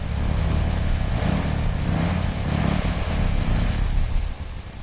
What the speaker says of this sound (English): The rebuilt engine now runs smoother, cleaner, and stronger than it did decades ago.